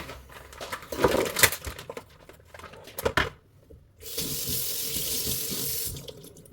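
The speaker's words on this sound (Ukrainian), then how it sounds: "Першим кроком нам потрібно буде помити наш шматок риби розпаковуємо і миємо." A piece of salmon rinsed under a running kitchen tap, with handling and rustling of packaging at first, then a steady stream of water splashing into the sink close by.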